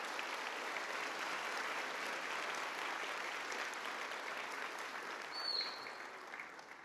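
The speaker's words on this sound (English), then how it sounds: "Let's give a round of applause, students, to these folks." An audience at a nursing pinning ceremony applauds steadily, many hands clapping in a dense, sustained wash that tapers slightly toward the end.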